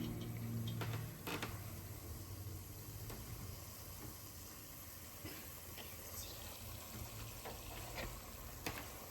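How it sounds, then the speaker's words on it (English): Dense, steady crackling hiss of cannoli dough frying in hot oil, with scattered pops and ticks over a low background hum. "See what happens with frying."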